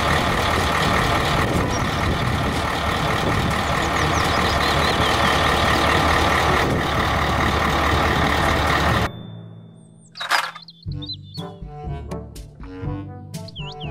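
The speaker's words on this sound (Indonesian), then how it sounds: "Mobil dump truck." A dump truck runs loudly and steadily for several seconds, then cuts out to a quieter stretch with high beeping tones, a hissing air-brake release and scattered clunks.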